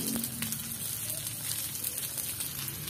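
Steady soft sizzling of Korean fish cakes frying in a pan, continuous and fairly quiet, with faint crackles throughout.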